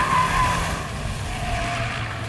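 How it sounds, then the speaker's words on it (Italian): A MINI John Cooper Works car corners hard. A steady road roar runs under thin, whining tyre squeals that rise and fade twice. "Sentite il rumore anche degli pneumatici."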